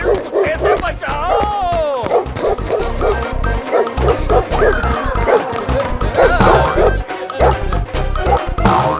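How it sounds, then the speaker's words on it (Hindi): A dog in an animated mythological tale barks in loud, repeated bursts amid a busy, chaotic scene with overlapping voices and commotion. "अरे कोई मुझे इस कुत्ते से बचाओ!"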